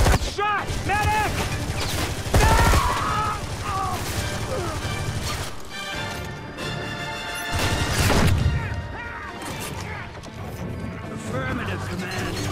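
Gunfire and blasts in the video game Deep Black Reloaded, repeated loud bursts and heavy impacts with mechanical clatter between them, close and intense, while voices talk throughout.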